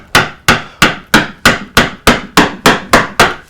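A mallet drives a deep gouge into wood while carving a coastal relief, producing eleven loud, evenly spaced knocks about a third of a second apart, each a sharp close thwack with a short decaying ring.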